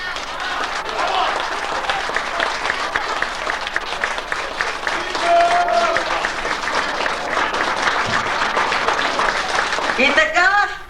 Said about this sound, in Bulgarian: И така, аплодисменти за артистите.